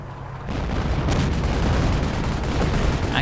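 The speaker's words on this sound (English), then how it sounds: "More artillery getting called in straight on the Yak Panther." Artillery fire in a World War II strategy video game, a sudden dense roar of explosions and gunfire that swells and holds loud for a few seconds without speech.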